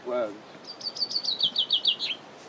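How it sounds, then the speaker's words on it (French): A bird sings a quick run of about eight bright, high chirps in a steady rhythm, fairly close and clear. A brief voice comes just before. "C'est l'oiseau"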